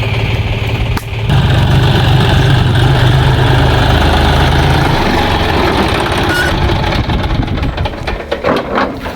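A tractor engine runs close by, a loud steady low rumble that holds from about the first second and fades slightly toward the end, with no talk over it.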